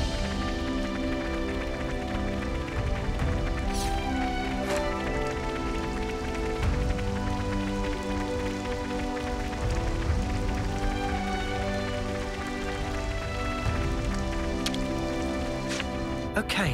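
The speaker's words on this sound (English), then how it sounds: "Rain!" Steady rainfall from Xenoblade Chronicles 3 patters continuously beneath sustained game music, with a few sharper drops standing out; no speech over it.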